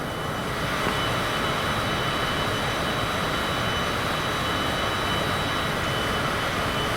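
Cessna engine in Microsoft Flight Simulator on approach to Kai Tak, a loud, constant propeller drone with steady broadband roar and no voices.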